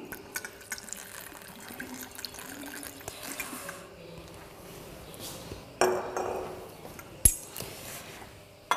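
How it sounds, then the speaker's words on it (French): 100 ml of water is poured into a lab flask of reagents, including potassium permanganate, during a benzoic acid synthesis: a steady trickling pour with a few sharp glassy clinks and louder splashing bursts toward the end. "je vais ajouter donc 100 ml d'eau"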